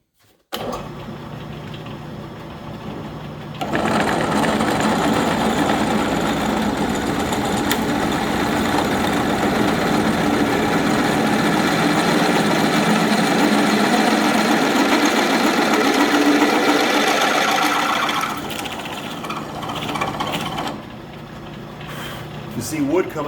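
A drill with a half-inch bit bores into wood backed by a wooden board, a steady loud motor whine running for about fifteen seconds before winding down, with no talking over it.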